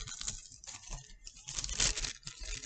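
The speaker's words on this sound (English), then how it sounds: "then just take your plastic bag once you got that tacked down." A plastic bag crinkles and rustles in close, irregular bursts as it is handled and fitted onto a straw as a sail for a homemade wind-powered toy car, with one sharper crackle near the end.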